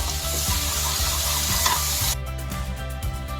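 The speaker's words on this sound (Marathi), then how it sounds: "आता यामध्ये घालूया 2 ते 3 चमचे घरचं कांदा खोबऱ्याचं वाटण. हे वाटण छान परतून घ्यायचंय." Onion-coconut masala paste fries in a pan with a continuous close sizzle and rhythmic stirring scrapes, over a low steady hum from the cooking setup, with the crackle thinning abruptly past the midpoint; no talking.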